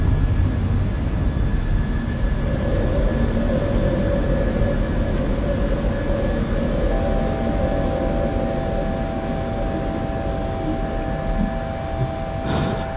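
A simulated Sri Lankan Airlines airliner climbs out of Colombo after takeoff in Microsoft Flight Simulator 2020, its engines giving a steady, loud roar with faint whining tones that holds unchanged throughout.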